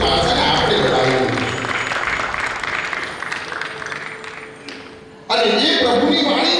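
An audience at a Jain devotional festival gives sustained, dense applause that thins and fades over several seconds, then surges back loudly. A speaking voice runs through the clapping.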